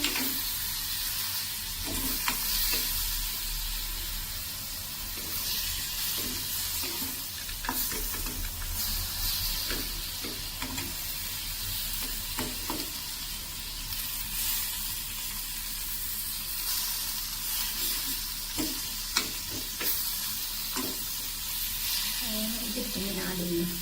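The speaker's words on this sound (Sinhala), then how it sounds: "ඉස්සෙල්ලා හොඳට තෙල් එක ටෙම්පරාදු කරගන්න." Hot oil being tempered for fried prawns gives a steady, close sizzling hiss throughout, with brief clinks and scrapes of stirring scattered on top.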